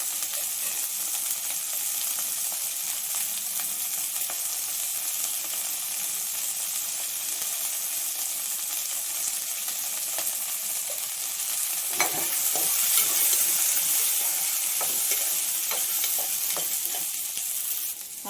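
Field beans (avarekalu) fry with onion in a pan, giving a steady close sizzle and hiss broken by soft scraping stirs, with no talking.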